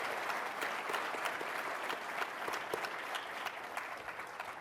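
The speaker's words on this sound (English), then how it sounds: "Please give them a round of applause." A conference audience gives the fireside chat panelists a round of applause, sustained crowd clapping at moderate distance, even and continuous with no clear talk over it.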